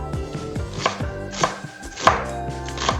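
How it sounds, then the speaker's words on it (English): Onions being finely chopped with a knife on a board, a brisk series of sharp close thuds in an irregular rhythm, about six distinct strikes with softer taps between, no voices. "just chop them very finely"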